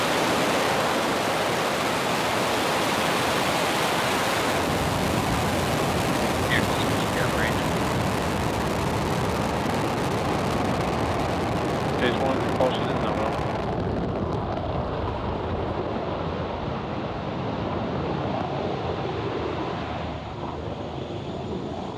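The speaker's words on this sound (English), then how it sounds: "Ignition and launch." A SpaceX Falcon 9 rocket lifting off from Space Launch Complex 4E at Vandenberg, a sustained broadband roar that holds steady and loud throughout, then thins toward the end as the higher crackle fades.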